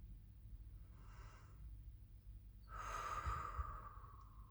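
During a guided meditation, a person takes a faint slow breath and then a louder, deeper breath, audible through the nose, in a quiet room with no talk.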